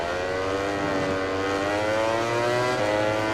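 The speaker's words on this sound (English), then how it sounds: "You can hear that Suzuki right behind me" Racing motorcycle engine from a Suzuki in the MotoGP 20 video game, a steady loud high-revving whine with harmonic tones that rise slightly, sustained throughout with no talk.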